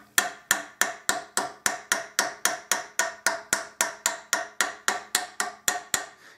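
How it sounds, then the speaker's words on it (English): A canvas mallet tapping out sharp dents in an old cornet's brass bell, about twenty evenly spaced, ringing knocks at a steady rhythm, close and clear with nothing else heard. "This end of the canvas mallet works well on some of the dents that are really sharp, like in this area. So I'm going to tap on those."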